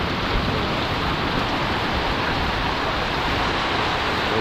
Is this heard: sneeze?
no